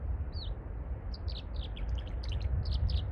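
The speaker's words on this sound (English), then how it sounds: "either a swift or a swallow." A swift or swallow gives a few quick, thin chirps, faint and somewhat distant over a steady low rumble of outdoor noise near a bridge crossing.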